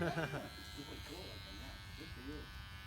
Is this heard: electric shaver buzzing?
yes